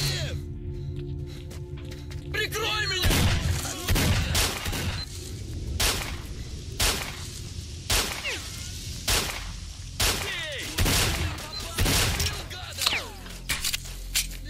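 Gunfire from a firearm in the S.T.A.L.K.E.R.: Shadow of Chernobyl video game, a string of loud sharp shots at irregular intervals over game ambience, with someone talking now and then.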